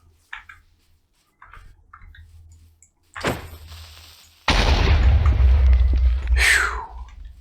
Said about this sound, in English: Didn't want him to explode, but last minute decision